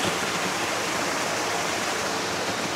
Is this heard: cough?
no